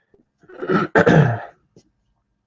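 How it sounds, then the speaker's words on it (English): A single harsh, close cough in two quick bursts, followed by silence. "Sorry that I keep coughing like that."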